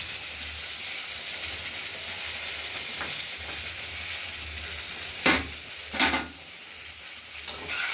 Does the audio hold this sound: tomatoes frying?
yes